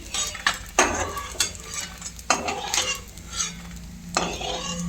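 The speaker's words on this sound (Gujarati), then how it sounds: "આવી રીતનું આપણે ગુંદરને તળી લેવાનું છે" Edible gum being fried in a pan for white sesame kachariyu, with a utensil scraping and clinking against the pan in several sharp strokes over a soft background sizzle; no talking.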